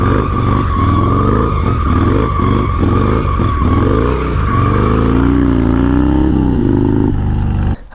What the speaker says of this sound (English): So you're going to go vroom, vroom, break the tire loose